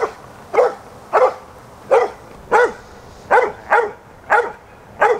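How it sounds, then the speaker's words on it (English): Dog barking repeatedly in a park, nine sharp evenly spaced barks close by and loud, with no other sounds. "there was this dog that would just keep barking and it kept interrupting my filming"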